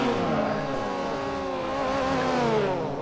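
Race cars in Forza Motorsport 4, including a Datsun 510, roar together at the race start, a dense layered engine drone with shifting pitches, steady and loud throughout.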